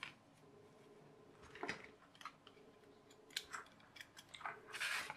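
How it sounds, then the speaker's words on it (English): Quiet, close snips of scissors cutting a rectangle out of material, a few short crisp clicks scattered over a faint background hum, with no speech. "I'll just cut that rectangle out"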